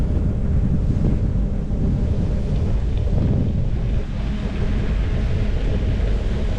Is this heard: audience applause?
no